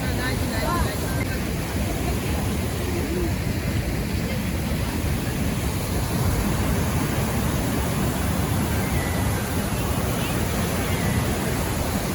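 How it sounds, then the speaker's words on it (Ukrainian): Water rushes steadily over rocks in a constant broadband roar at Yaremche, Ukraine, close and unbroken, with no clear voices. "просто слухати шум води милуватися оціми скелями"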